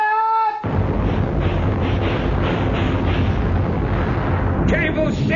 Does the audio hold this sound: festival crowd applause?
no